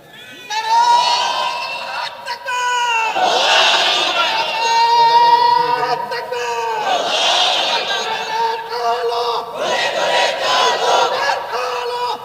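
A sermon crowd answers the call for takbir, shouting Allahu Akbar in loud, repeated collective bursts, three or four swelling waves of massed voices.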